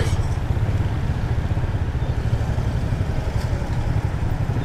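Motorcycles and chingchi rickshaws idle in a long queue at a petrol pump on Main Peshawar Road, a close, continuous low engine rumble with steady throbbing pulses and light clatter.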